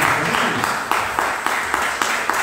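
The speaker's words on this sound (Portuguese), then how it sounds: "Vamos aplaudir então o senhor mais uma vez" A church congregation at a farewell service applauds the pastor, steady close clapping from many hands filling the moment, with rhythmic accents suggesting some clapping in time.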